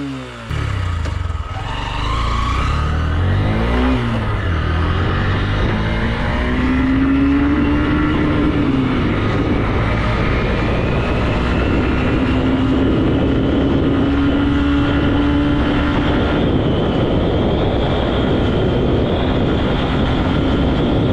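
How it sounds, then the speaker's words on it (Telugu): A 2020 Honda SP125 motorcycle is ridden hard through each gear at high rpm, its engine note climbing steadily and repeatedly, loud and continuous with wind and road noise. "ఇప్పుడు నేను ప్రతి గేర్ లో హెవీ ఆర్పిఎం లో బండిని అయితే మాత్రం నేను డ్రైవ్ చేస్తాను."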